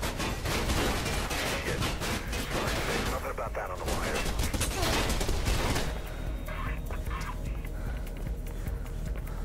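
Bursts of rapid enemy gunfire crackle through a Mirror's Edge shootout, loud and dense for several seconds before easing off, with other game sounds beneath and a little talk mixed in.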